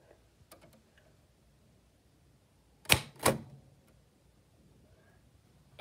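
A typewriter with an ink ribbon gives a few faint light taps, then two loud close clacks of a key striking in quick succession, followed by quiet.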